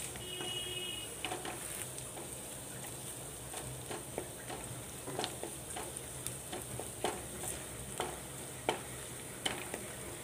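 A couple of curry leaves sizzling in hot oil with ginger and garlic in a pan, a quiet steady frying hiss broken by scattered sharp crackles and utensil clicks, with no talking.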